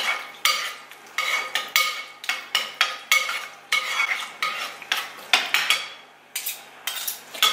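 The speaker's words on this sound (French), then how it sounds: "Je remue." A utensil stirs food in a pan for a crustless vegetarian pizza, producing repeated close scraping strokes in a quick, uneven rhythm with light clinks against the metal and no speech.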